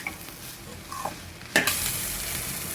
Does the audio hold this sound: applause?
no